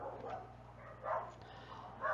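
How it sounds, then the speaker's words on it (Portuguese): A dog barks in the background in two short, muffled bursts a second apart, distant and faint under a steady low hum. "Desculpa o cachorro no fundo"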